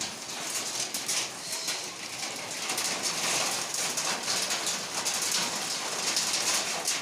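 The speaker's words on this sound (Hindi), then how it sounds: "देखिए 5 मिनट में ही ये कितना बारिश हो गया" Heavy rain mixed with falling hailstones, a dense steady hiss of drops and impacts on surfaces, close and unbroken throughout with no voices.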